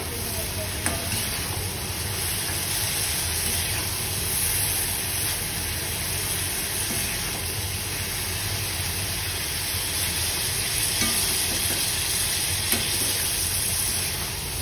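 Vegetable bhaji fries in a pan with a constant, even sizzle and hiss that holds steady from start to finish, close and moderately loud.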